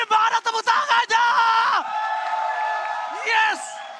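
Esports arena crowd at a Mobile Legends M5 World Championship Grand Final in Taman Ismail Marzuki yelling and roaring in bursts, then a sustained cheer that swells again near the end, close and loud.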